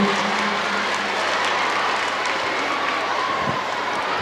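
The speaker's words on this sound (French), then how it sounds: "On l'applaudit." An audience at a spelling contest preliminary in Bamako applauds a contestant, producing a steady, loud wash of clapping that holds for several seconds with a faint background hum.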